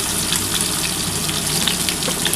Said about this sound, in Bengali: একটু ডিমটা একটু হালকা করে ভেজে নিচ্ছি আমি।